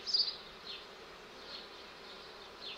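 Honeybees buzzing in an opened beehive during an inspection, a close, soft, steady hum with small swells as individual bees pass near, no talk.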